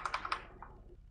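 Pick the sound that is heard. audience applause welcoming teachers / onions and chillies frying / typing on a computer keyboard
typing on a computer keyboard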